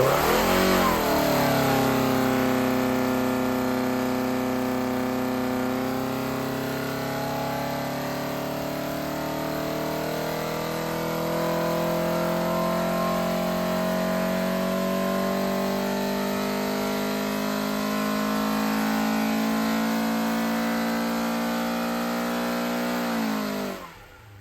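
A Ford Pinto engine fitted with a Burton CNC race head and old-school rally cam revving hard on a test setup, a loud sustained climb and hold at high revs that drops away abruptly at the end, with no talk.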